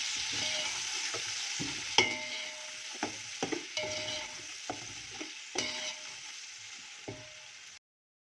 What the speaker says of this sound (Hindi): लहसुन अदरक को थोड़ी देर भूनना बेहद ज़रूरी है।